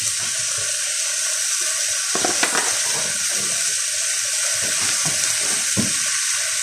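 Butternut squash soup being stirred in a pot, a few scraping and knocking strokes of a spoon against the pot over a steady watery background hiss, no voices.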